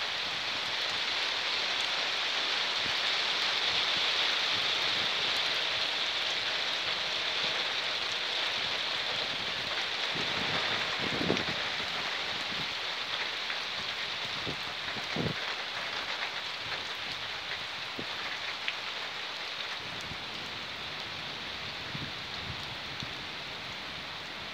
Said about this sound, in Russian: Ой, хороший дождик.